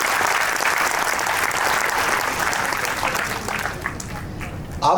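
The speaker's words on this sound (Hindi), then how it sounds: "एवरीबडी एक बार इस बात पे जोरदार तालियां बजा सकते हैं हम लोग।" Loud, sustained audience clapping at a spiritual gathering fills the whole stretch, dense and steady throughout, with a brief swell right at the end.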